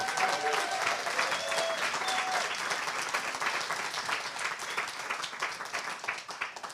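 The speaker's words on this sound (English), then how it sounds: "So please give them a round of applause." An audience claps for a group of speakers at a TEDx showcase night, a sustained, even round of applause from a crowd that slowly thins toward the end.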